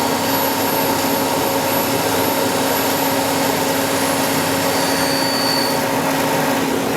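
A Citizen M-20 CNC Swiss-type multi-axis lathe runs its main spindle at 6000 RPM, producing a loud, constant machine roar with steady high whine tones that holds unchanged throughout.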